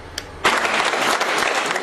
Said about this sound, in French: Des applaudissements pour la tête de liste UMP.